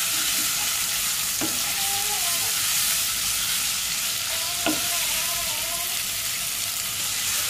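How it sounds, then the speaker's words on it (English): Ginger garlic paste frying in a pan for a Hyderabadi chicken dish, a steady loud sizzle and hiss. Two brief scrapes of a spoon stirring cut through, with no talking. "Okay, stir till it nicely cook."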